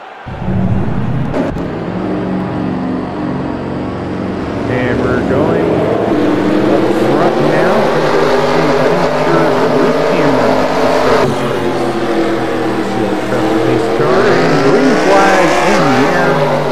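Stock cars firing up and revving for a race at South Boston, several engines rising and wailing together in a loud, close roar under a commentator's talk.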